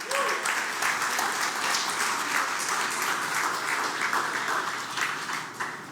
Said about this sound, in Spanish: Ay, dale un aplauso bueno.